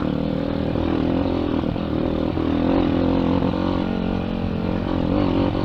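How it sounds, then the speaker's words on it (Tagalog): A Honda XR200 trail motorcycle engine runs loud and close on a dirt trail, its steady drone uneven and faltering as the engine sputters. "Ito na, pumupugak-pugak na yung motor ko."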